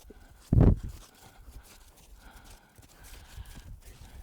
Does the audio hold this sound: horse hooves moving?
yes